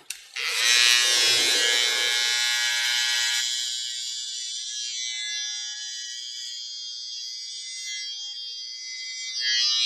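An electric clipper buzzes steadily while trimming short hair on the sides of a head, running continuously at close range with a bright, even hum that softens slightly midway.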